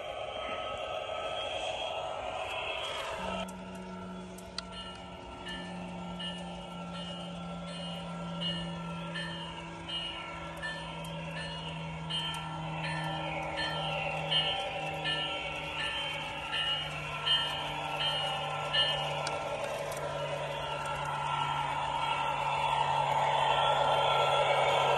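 A model railroad locomotive pushes a tank car and two hoppers into a brewery spur on a winter layout, giving a steady electronic motor whine and hum with sound-system tones and faint rolling clicks throughout, no talk.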